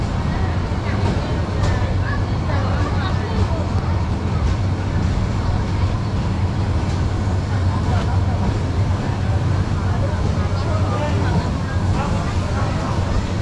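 Cox's Bazar Express train rolling into the platform at Cox's Bazar railway station, a loud, steady, low rumble with constant noise and a faint murmur of a crowd mixed in throughout.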